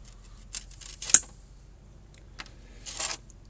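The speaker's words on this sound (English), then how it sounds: "So I'm just going to cut it like this." Bonsai shears cut a branch on a small shohin premna bonsai, with a few sharp snips and light clicks close by and scattered handling noise. The cuts are otherwise quiet, with no talking.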